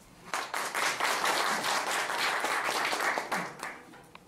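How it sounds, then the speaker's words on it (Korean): A Korean audience at an evening orchid lecture course gives lecturers a big round of applause, dense clapping that swells in quickly, holds strong and close, and tapers off near the end. "좋은 강의를 해주실 우리 강사님들께 다시 한번 큰 박수 부탁드리겠습니다"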